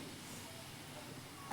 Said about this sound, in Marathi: बघा भाजी छान अशी उकळी यायला लागली